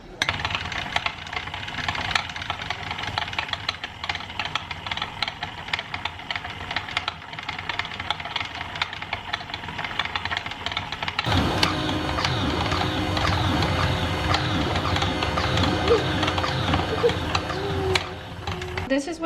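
An old electric stand mixer labours through stiff, hard Christmas baking dough, a steady mechanical whir joined midway by a louder, denser motor drone that continues without pause.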